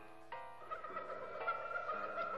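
A cartoon goose in an alphabet jungle game lets out a drawn-out, nasal honk that wavers and repeats over about two seconds, moderately loud with no other sounds.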